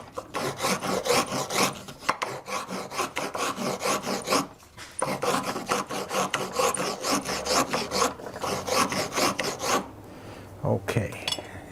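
A file rasps back and forth along a wooden spindle in quick, even strokes, each scrape distinct and close, continuing steadily with a couple of brief pauses and no speech.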